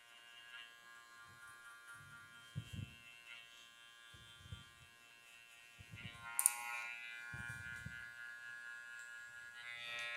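Electric hair clippers buzz continuously while fading a man's difficult hair, with short rhythmic bursts of louder rasping as the blades bite in and flick out.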